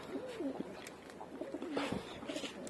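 Racing pigeons coo close by in a repeated series of soft, rolling coos, one call after another with short pauses between.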